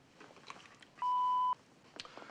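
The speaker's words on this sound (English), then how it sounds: "wait for the little beep" A single steady answering machine beep sounds for about half a second, clear and fairly loud against a quiet room with faint rustling before and after.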